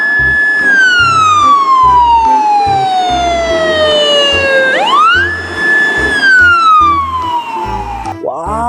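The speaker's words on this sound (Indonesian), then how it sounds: "Di sini ada mobil ambulan." A toy ambulance siren wails loudly and close, its electronic tone sliding down slowly then sweeping back up in repeated cycles, with a pulsing low beat underneath.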